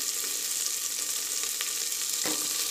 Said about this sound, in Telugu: కొత్తిమీర పచ్చిమిర్చి నేతిలో చక్కగా వేపుకోవాలి